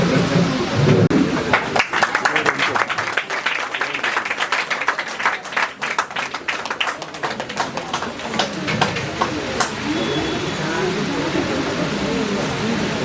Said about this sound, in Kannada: ಜೋರಾದ ಚಪ್ಪಾಳೆಯ ಮೂಲಕ ಅಭಿನಂದಿಸಿದ ಎಲ್ಲರೂ ಸಹ